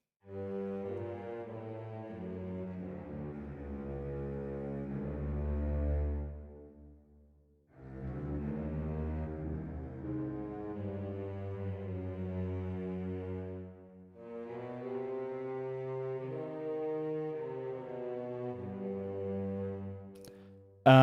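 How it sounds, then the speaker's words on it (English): Cello and bassoon play together in smooth legato lines from orchestral sample recordings, producing low, sustained, connected notes in long phrases with a short pause between them, full and close. "We have cello and bassoon legato."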